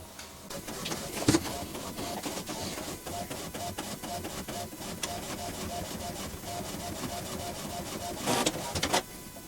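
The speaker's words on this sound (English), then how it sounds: "I don't know if you can hear the printer." A Canon Pro-200S photo printer running as it prints a photo, giving a continuous mechanical whir with rhythmic clicks and a couple of louder clunks near the start and end, close by.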